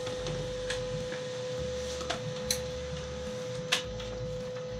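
HP LaserJet 1010 laser printer printing a configuration page: a steady electrical hum with a constant tone, low mechanical rumbling, and a few scattered clicks and ticks, close and without voices.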